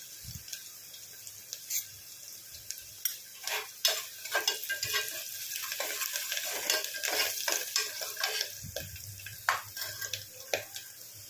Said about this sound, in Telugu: ఉల్లిపాయ అయితే ఫ్రై అయ్యిందండి